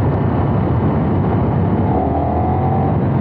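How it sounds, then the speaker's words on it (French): A 2024 KTM Super Duke 1390 R roadster pulls hard under acceleration, its engine droning loud and steady with a rising tone near the end, heard from the rider's position with no talk. "Vous avez également l'accélération et là de ce côté là mes amis ça pousse"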